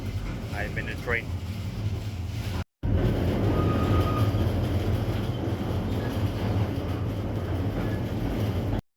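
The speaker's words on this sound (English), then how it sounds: "I'm in a train." Train rolling on rails through a mine recreation, a steady loud rumble and rattle heard from onboard, continuous apart from a brief cut.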